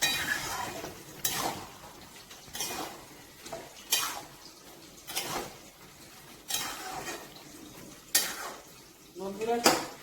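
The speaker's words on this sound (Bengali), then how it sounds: "ভালো করে মিশিয়ে নিচ্ছি।" Spatula scraping and stirring prawns, pumpkin, ridge gourd and Malabar spinach in a pan, repeated scraping strokes every second or so with light clinks of metal against the pan, close and fairly loud.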